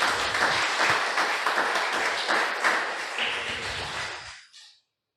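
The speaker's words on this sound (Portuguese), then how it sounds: "Uma salva de palmas para Jesus nesse momento." A church congregation claps together in sustained, dense applause that fills the room, then thins and trails off into silence.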